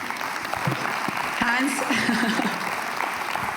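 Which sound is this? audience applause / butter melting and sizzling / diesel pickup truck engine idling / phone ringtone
audience applause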